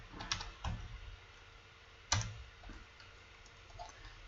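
Keys clatter on a computer keyboard as an asset name is typed, a few scattered, close, fairly soft keystrokes over a quiet room.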